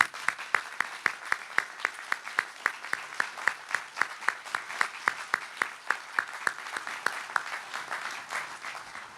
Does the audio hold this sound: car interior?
no